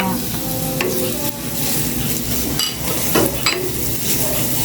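Onions being stirred and sautéed in a pan make a steady close sizzle with occasional scraping knocks from the utensil, and nobody is speaking.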